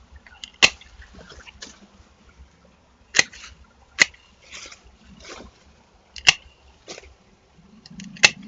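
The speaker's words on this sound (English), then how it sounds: "So I'll cut this back to a much smaller plant." Pruning cuts are made on a plant in a greenhouse. Several sharp, separate snips come at irregular intervals, with quiet rustling between them and no talking.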